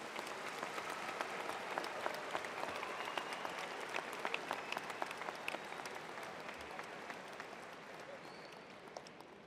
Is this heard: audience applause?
yes